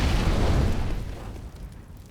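An incendiary grenade in Counter-Strike bursts with a loud, close whooshing roar of flame that fills the start and then fades away, with no talking.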